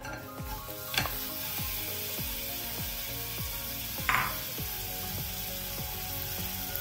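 Figs cook in a hot nonstick pan with a continuous sizzle, while a spoon scrapes and taps the pan in a regular rhythm and two sharper clatters stand out.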